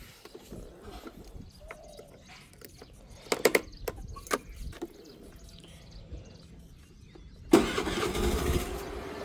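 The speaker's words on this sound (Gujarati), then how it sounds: "અત્યારથી હાલતી થઈ જાય સખારામ કા સ્કૂટર" A scooter engine starts on a farm near a bajra field. It catches abruptly and keeps running loudly near the end, after quieter outdoor ambience with scattered bird calls and a few sharp knocks.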